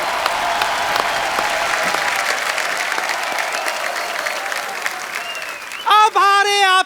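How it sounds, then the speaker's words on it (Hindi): A studio audience at a television comedy show claps in a sustained, even burst of applause that fades, then a voice starts speaking near the end. "गीता जी के लिए जोरदार तालियां।"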